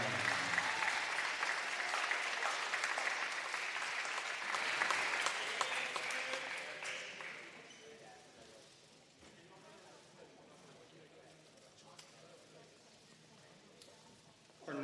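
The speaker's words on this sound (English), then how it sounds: "let's give a big round of applause to our senior" A high school boys basketball crowd in West Virginia gives a senior player a loud round of applause during senior-night introductions. The clapping fades after about seven seconds into quieter gym ambience.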